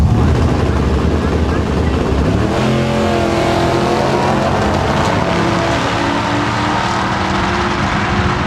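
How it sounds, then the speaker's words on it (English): A drag race car making a 95 mph pass at a national drag racing event, its engine roaring loud and close, steady and sustained, with a voice talking faintly underneath. "one of our Triple Crown cars making a shot"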